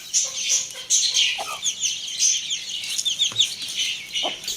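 Chickens cluck steadily in a farm pen with small birds chirping around them, a close, busy mix of short clucks and calls with no talking.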